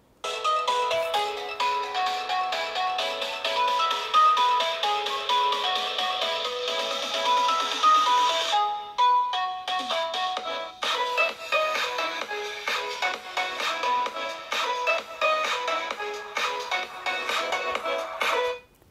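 A ringtone-like melody plays through the small built-in speaker of an Umidigi S5 Pro phone, sounding thin and bright, with a brief pause about halfway before the tune resumes and runs to an abrupt stop.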